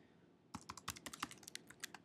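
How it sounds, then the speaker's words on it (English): Fingers type an email address on a computer keyboard, a fast, even patter of close, quiet key clicks lasting a second and a half, with no voice. "select third-party recipient and type the email"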